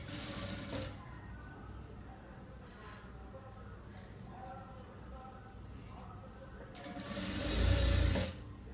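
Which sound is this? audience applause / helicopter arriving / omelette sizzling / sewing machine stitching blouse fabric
sewing machine stitching blouse fabric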